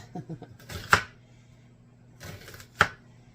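A knife slices food thin on a cutting board, giving two crisp, separate cuts about two seconds apart, each preceded by softer scraping taps, in a quiet room.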